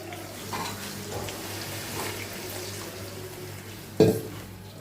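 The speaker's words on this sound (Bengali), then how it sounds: "একটু জল দিয়ে দিচ্ছি" Water splashes into a cooking pot of seasoned, salted food being readied for covered boiling, a soft trickling pour under a low steady hum, ending in a sharper louder splash near the end.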